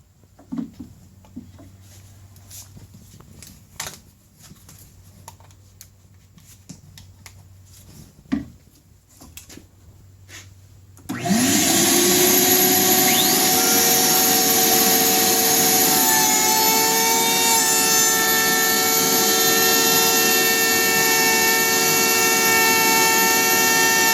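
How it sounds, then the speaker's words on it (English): A Ridgid shop vacuum collecting dust from a DeWalt router roars on abruptly partway through and runs loud and steady to the end, with a whining motor tone; only faint scattered knocks come before it. "I'm using my rigid vacuum cleaner to assist me in keeping the dust"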